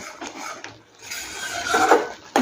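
A spoon scrapes and rasps against an open pan as paneer butter masala paste, made without tomato, is stirred and fried; steady scratchy rubbing with a sharper clatter near the end, no voices.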